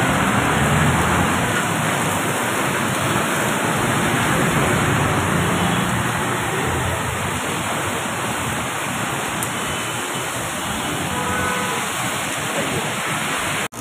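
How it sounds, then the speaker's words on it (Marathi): Heavy rain pours down in a dense, steady roar that stays loud and unbroken throughout, with no voices over it. "कधी थांबायचा हा पाऊस आणि कधी निघायचो आपण?"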